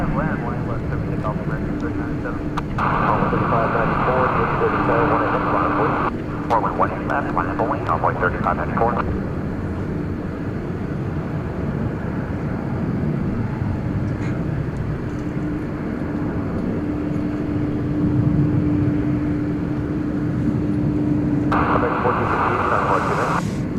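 A fixed-wing airliner taking off at DFW Airport gives a steady, distant engine roar spread across the whole stretch, with people talking over it.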